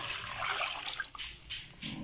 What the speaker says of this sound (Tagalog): Lagyan natin ng tubig.